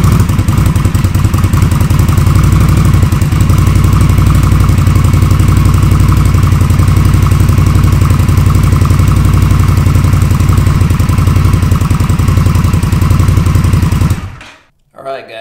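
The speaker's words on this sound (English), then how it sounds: "we're going to do a startup with the stock exhaust" Engine with stock exhaust started and left idling, a loud steady low rumble with a constant rhythmic pulse held for about fourteen seconds before cutting off abruptly near the end.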